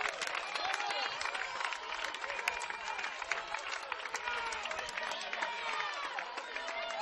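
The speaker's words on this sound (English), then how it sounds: "And the Norwell crowd really getting into it now." A home crowd at a Norwell vs Heritage high school baseball sectional game at Bellmont cheers and claps in a dense, steady roar that holds for the whole stretch without a break.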